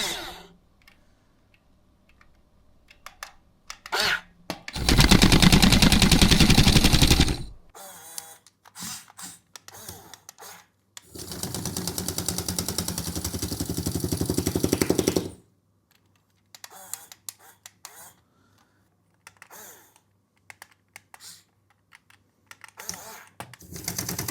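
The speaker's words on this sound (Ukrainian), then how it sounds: "зараз ми протестуємо наш відбійний молоток" A HUINA 1535-1 radio-controlled excavator's hydraulic breaker hammer pounds into hard kinetic sand in two loud, rapid rattling bursts of several seconds each, separated by quieter clicks and faint handling noise.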